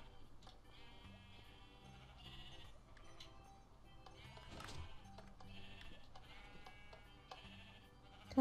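Sheep bleating in the video game Minecraft, several short bleats repeating through the stretch at moderate level alongside light game clatter, with no talk over them.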